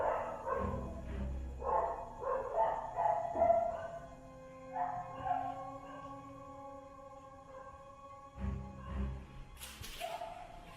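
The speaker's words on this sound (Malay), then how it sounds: "Kuat nyalakan bunyi anjing tu." A dog barks repeatedly at night somewhere beyond locked rooms, the barks sounding distant and echoing in irregular clusters, with a few dull thumps and no talk over them.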